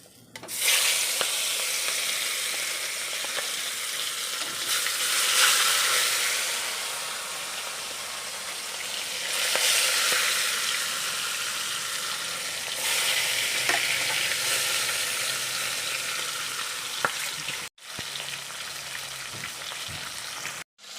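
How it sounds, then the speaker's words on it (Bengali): Chital fish pieces fry in hot mustard oil in a kadai. A loud, steady sizzle with a hissing crackle runs throughout, with a brief break near the end. "আচ্ছা, এখন আমি মাছগুলোকে ভেজে নেব"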